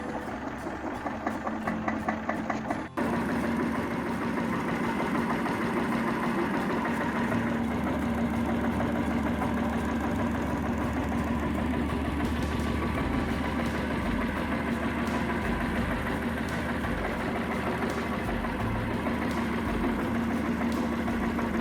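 Old German single horizontal cylinder engine with auxiliary priming injection nozzles, running steadily with a low rhythmic thump and a constant mechanical drone, alone without talk.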